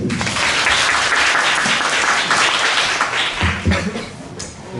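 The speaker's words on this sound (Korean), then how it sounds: "큰 박수를 맞이해주세요" An audience at a lecture on zero-trust OT security applauds to welcome the speaker, a dense, sustained burst of many hands clapping that tapers slightly toward the end, with a faint chuckle near the finish.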